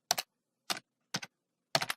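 Keys on a computer keyboard clack in four quiet, close bursts of one to three taps each as a password is typed, with silence between and no talking.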